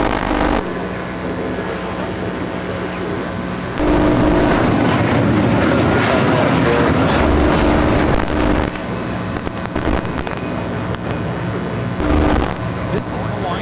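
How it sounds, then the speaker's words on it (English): A Hawaiian Airlines Airbus A330-200 takes off at LAX bound for Honolulu. A loud, sustained jet engine roar swells under wind noise, and people talk over it. "This is Hawaiian Airlines Flight 3 taking off to Honolulu on the A330-200."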